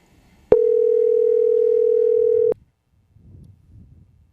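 A single steady telephone dial tone holds for about two seconds and then cuts off abruptly, loud and clean, followed by faint muffled sounds.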